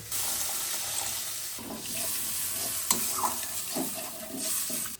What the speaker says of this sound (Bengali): এবার একটু জল দিয়ে গ্রেভিটা বানিয়ে নেব।